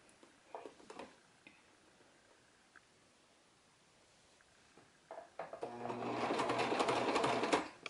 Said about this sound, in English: So let's go ahead and sew that.